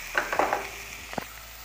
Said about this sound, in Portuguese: agora eu vou acrescentar o jiló